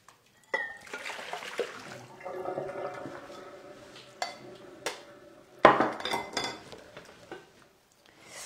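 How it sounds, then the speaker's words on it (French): Broth being strained through a fine sieve in a home kitchen, with liquid pouring and splashing alongside metallic clinks of utensils and a pot, plus a sharp clatter partway through; no talking. "en utilisant une passoire fine, bah, du coup, je ne perds rien"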